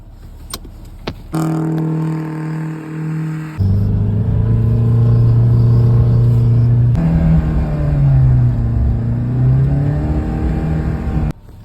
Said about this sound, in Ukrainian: Давай газу до отказу.